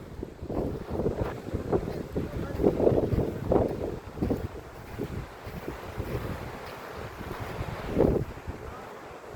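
Wind and waves along a sea shore beside a seaside cremation ground, a steady rough rush with irregular surges peaking around the eighth second, and faint voices occasionally underneath.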